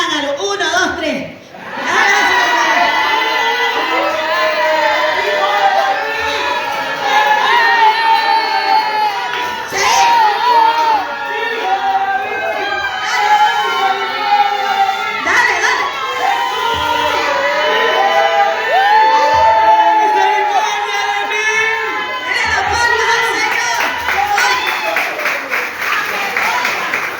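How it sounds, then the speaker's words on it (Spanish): A church congregation erupts on cue into loud, dense shouting and talking, a sustained roar of many voices with cheers and some applause that keeps going for nearly half a minute. "ustedes hablen, griten, háganlo"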